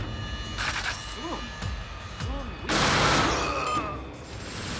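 Gunfire from the TimeSplitters Future Perfect video game comes in scattered bursts and one dense volley, under a narrating voice.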